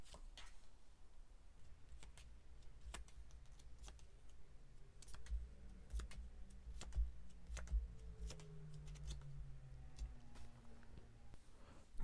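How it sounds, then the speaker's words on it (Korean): Tarot cards are drawn and handled indoors, giving quiet, irregular soft clicks and taps of card against card over a faint low background hum, with no talk. "제가 카드 뽑아 볼게요."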